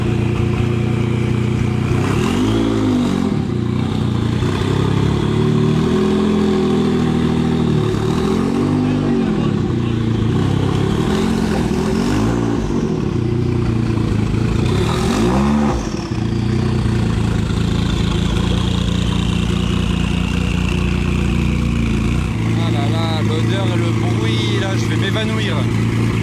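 A Jaguar XJ220 engine roars loud and close, with repeated rising and falling revs that swell and drop several times before settling into a steadier drone, while a person talks over it.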